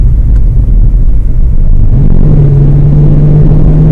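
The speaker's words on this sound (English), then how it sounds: "because your engine will sound like this" A manual-transmission car engine over-revving in low gear: a loud, heavy rumble drones steadily, then settles into a strained, high-revving sustained tone, close and constant with no voices.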